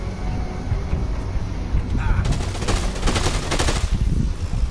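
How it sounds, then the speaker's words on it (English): Gunfire in the video game Dead Rising 2, rapid bursts of automatic shots that grow denser midway, with a player talking over the shooting. "Who the fuck is still shooting at me?"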